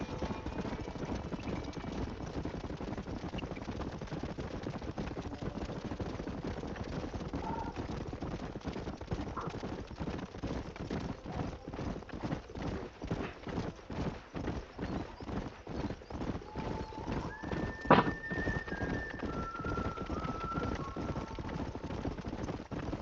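Horse hooves clip-clop in a steady, quick rhythm through the Red Dead Redemption game world, mid-level and continuous, with a horse whinny breaking in near the end over a faint background drone.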